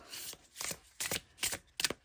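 Close, crisp riffle shuffles of an oracle card deck, about five quick rasping bursts in a row with brief pauses between.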